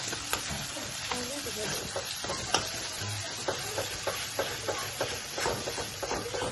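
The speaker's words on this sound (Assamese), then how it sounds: "নহৰুখিনি ভাজি দিয়া" Garlic frying in a pan with spice masala for a meat curry, a steady close sizzle punctuated by regular light spatula ticks and scrapes.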